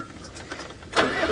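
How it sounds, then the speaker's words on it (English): A safari vehicle's loud diesel engine cranks and catches near the one-second mark, settling into a close, steady running rumble after a quiet stretch. "we've got a loud diesel engine that she definitely would have heard starts up there"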